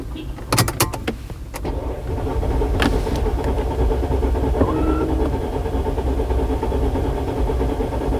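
A 2007 Mercedes-Benz 211 cranks without starting, its starter churning in a steady, continuous drone after a few sharp clicks and knocks, heard close up with no engine catch.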